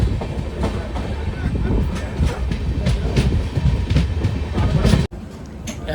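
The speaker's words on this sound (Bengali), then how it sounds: "আমাদের ট্রেন 7:08-এ আলুয়াবাড়ি স্টেশন থেকে ছেড়ে দিল" Kanchan Kanya Express running after leaving Aluabari station, heard from inside a general coach: loud continuous rumble with rhythmic clickety-clack of wheels over rail joints, close and steady throughout.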